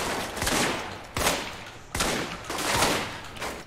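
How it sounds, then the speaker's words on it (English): Shotgun fire in the video game Alpha Protocol: three loud, close blasts in quick succession, each a sharp crack followed by a brief decaying roar. "I'm gonna use the shotgun here,"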